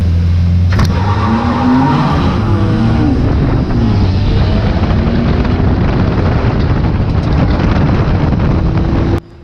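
Race cars tear around Cowdenbeath Racewall in a close-packed heat, engines roaring loud and near with rising and falling pitch as several cars pass, before the sound cuts off abruptly at the end.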